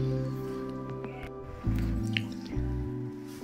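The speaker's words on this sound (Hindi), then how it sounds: "इस चिकन को हम ढक ढक करके भूजेंगे और ये जो अपना पानी छोड़ते हैं इसी में इसे हम पकने देंगे।" Chicken masala cooks covered in its own released juices, giving a close, steady wet sizzle with soft squishing and dripping, plus a few louder bubbling bursts partway through.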